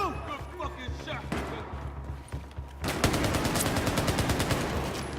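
Rapid gunfire from the Battlefield 4 campaign in Shanghai, sporadic shots giving way to a dense, sustained burst of automatic fire that fills the second half, loud and close.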